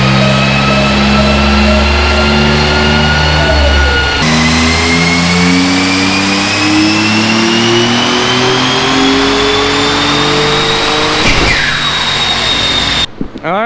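A twin-turbo Mitsubishi 3000GT VR4 with its 6G72 engine revs hard on a dyno, one long loud pull climbing steadily in pitch, with a gear-like step early on, before cutting off abruptly at the end.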